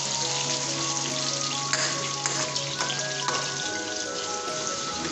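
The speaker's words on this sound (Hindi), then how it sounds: "और इसको ऑयल में हम भूनेंगे" A spiced paste for chicken karahi fries in hot oil in a pan, giving a steady close sizzle and crackle throughout with occasional stirring clinks.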